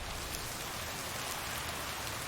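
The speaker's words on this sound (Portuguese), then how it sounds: "Nossa, chovendo" Steady rain from the video game Lake pours without a break, a dense even hiss of falling water that stays level throughout with no voices over it.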